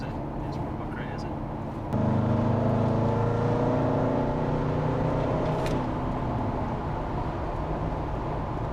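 An Audi 4.2 V8 TDI diesel with a straight-pipe exhaust and hard-cut limiter bursts into a loud, sustained rev after a quiet couple of seconds, its deep droning note heard muffled from inside the insulated cabin.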